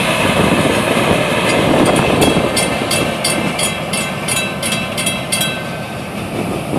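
An FEC freight train rolls steadily past at close range, a continuous loud rumble with a faint rhythmic clatter of wheels over rail joints, ending with the end-of-train device.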